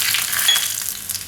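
Chillies dropped into hot oil in a pan for a Gujarati palak adad dal tadka, giving a bright, steady sizzle and crackle, loud and close, with no voices.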